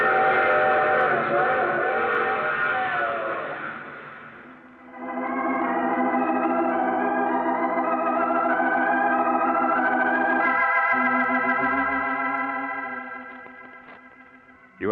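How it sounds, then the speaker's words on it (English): A steam train in an old radio drama rumbles and chugs steadily for several seconds, joined by a long, loud, wailing whistle that swells and fades, with no talk over it. "I take this same train each week at this time."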